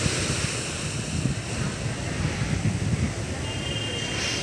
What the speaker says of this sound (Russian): у меня было ощущение, что это хорошее предштормовое море